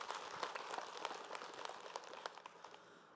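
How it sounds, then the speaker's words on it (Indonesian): A studio audience at an Islamic religious talk show gives light applause for the teacher, a soft, fairly quiet patter of separate claps that eases off gradually. "Tepuk tangan buat guru kita Habib Muhammad Syahab."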